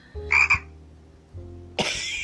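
A frog croaks in two distinct bursts about a second apart, fairly close and clear over a low steady background hum.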